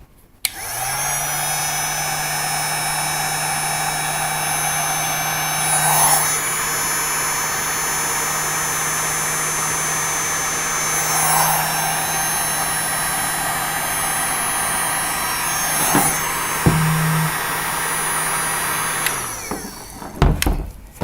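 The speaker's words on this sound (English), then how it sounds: "I'm using my handy heat gun here. Apply heat and shrink that tube." A heat gun blows continuously to shrink black heat shrink tubing, making a loud, steady whirring roar with slight swells in intensity, before switching off near the end.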